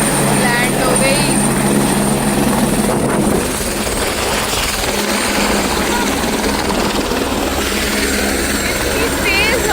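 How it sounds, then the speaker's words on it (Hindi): Helicopter rotor and engine drone, loud and steady throughout, near a mountain helipad on a Kedarnath pilgrimage trip with snowy peaks around, with people talking over it. "Helicopter helicopter helicopter helicopter."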